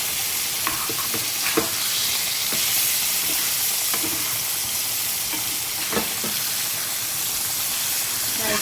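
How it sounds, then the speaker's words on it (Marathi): Bagda fish sizzles steadily in a hot pan for the whole stretch, with a few sharp scraping clacks as the pieces are stirred and flipped, close and fairly loud, with no talking. "आता आपण हे बागडा फ्राय पालटू असं पलटून घेऊया"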